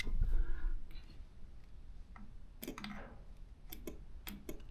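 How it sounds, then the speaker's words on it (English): A BMW K100 motorcycle's starter clicks without turning the engine over: a few faint, sharp single clicks spaced apart over a steady low hum, with no engine cranking after them. "when I touch them, I hear a clicking noise and then nothing more"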